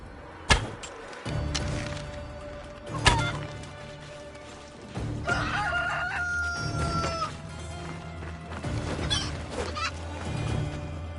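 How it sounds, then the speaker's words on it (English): Video game chickens in Assassin's Creed Odyssey cluck and squawk in several bursts, with one crowing-like call midway, set against a steady game ambience with distant background tones. "Now I'm going to show you how to kill a chicken."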